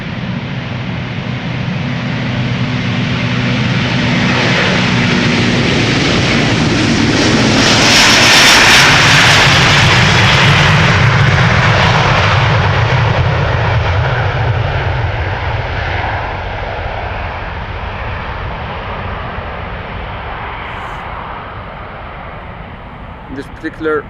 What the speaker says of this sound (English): This is Delta Airlines Flight 179 to Portland, Oregon.